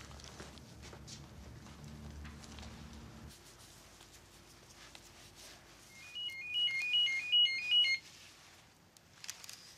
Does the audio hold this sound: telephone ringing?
yes